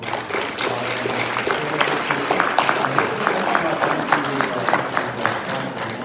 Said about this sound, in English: let's have a round of applause for the Lions Club